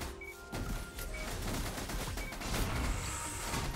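Video game airstrikes land in a dense, continuous barrage of booming explosions and rattling gunfire, loud and close throughout.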